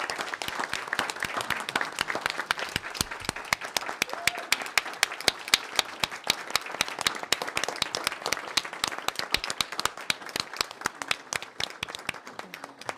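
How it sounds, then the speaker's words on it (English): Board of education meeting audience applauding students, sustained clapping with sharp individual claps standing out across the crowd, fairly close and continuous for the whole stretch. "Let's give all of these amazing deserving students a round of applause."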